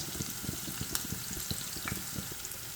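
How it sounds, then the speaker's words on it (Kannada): Onions fry in a pan with a soft, low sizzle broken by quick, repeated bursts, likely from stirring, all fairly quiet and close. "ಸ್ವಲ್ಪ ಫ್ರೈ ಮಾಡ್ಕೊಳ್ಳೋಣ"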